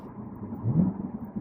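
A 2016 Corvette Stingray engine briefly blips upward during a rev-matched downshift, a low rumbling swell peaking mid-clip before settling back to a steady idle-like drone, moderately near.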